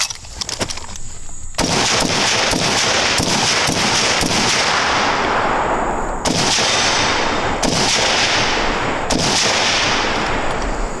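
SKS rifle fired at an outdoor range: a string of loud, sharp gunshots spaced a second or two apart, each cracking hard and trailing off in a ringing echo.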